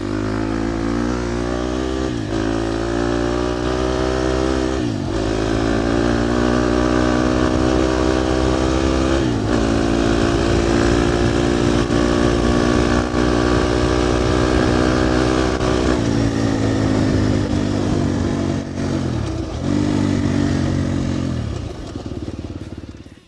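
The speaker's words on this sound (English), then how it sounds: "Had a great ride on the 24 KTM 250 XCF." A 2024 KTM 250 XCF dirt bike engine screams close and loud throughout the ride, revving high with repeated dips for gear shifts and then surging again, before easing off at the end.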